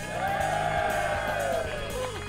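Indoor crowd at an amateur Australian football club cheering and whooping for a player's goal, a dense sustained roar of mixed voices with shouts rising over it.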